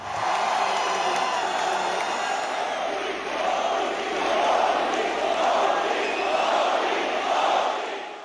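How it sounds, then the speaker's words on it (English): A crowd of about 19,000 chanting for Prime Minister Modi on his first US visit as Prime Minister, a loud, massed roar of voices that swells rhythmically in repeated waves throughout. "The crowd waved and chanted his name."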